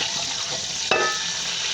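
Hot ghee and oil hissing steadily as cumin seeds are dropped in, with a sudden sharper burst of sizzle midway, close and continuous with no talking.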